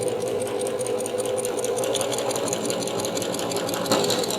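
A sewing machine runs steadily while stitching straight lines across a quilt, a continuous close, loud mechanical whir at an even pace throughout.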